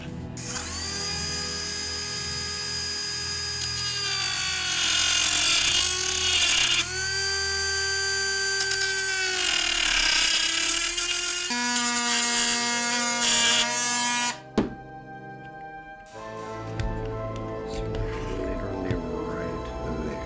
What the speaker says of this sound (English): I'm going to be cutting a small piece of the main box out for the extension charging port with my Dremel tool